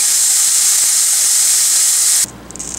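A rib-eye steak sears in a hot pan with a loud, steady hiss and sizzle that runs continuously, then cuts off abruptly near the end, leaving quieter crackling and no talking.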